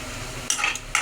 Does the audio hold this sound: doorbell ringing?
no